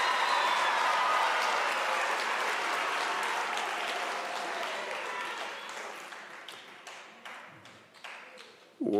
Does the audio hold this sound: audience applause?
yes